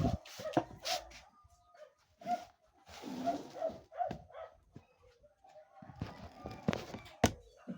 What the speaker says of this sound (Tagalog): Tingnan natin kasi kumakahol yung aso.